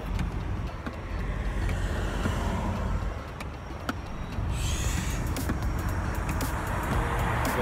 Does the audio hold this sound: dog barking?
no